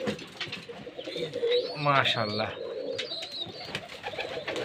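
Giribaz pigeons in a loft giving soft, throaty coos close by, one longer rolling coo in the middle, while someone speaks briefly over them.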